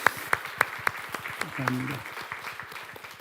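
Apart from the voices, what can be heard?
congregation applause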